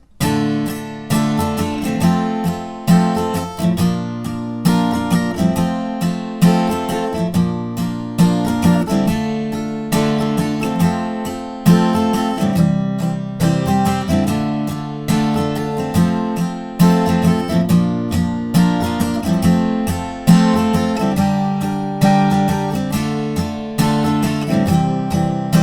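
An acoustic guitar strums the chords of the first verse of a song, in steady repeated strumming patterns that run continuously and clearly with no voice.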